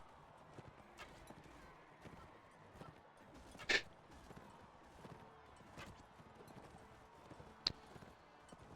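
Horse hooves gallop in a steady, rhythmic clip-clop in the Mount and Blade Warband video game during a tournament, with a few sharp louder hits standing out and no talk over it.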